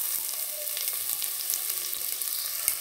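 Onions sizzle steadily in hot ghee in a pan, a close, continuous crackling hiss with scattered pops and no talking.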